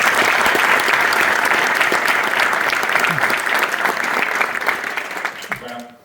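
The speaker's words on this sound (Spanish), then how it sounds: "Y quiero que me den un gran aplauso para recibirlo." Loud, dense audience applause welcoming a guest onstage at a live talk event, a steady roar of clapping with some cheering that holds for about five seconds before fading out.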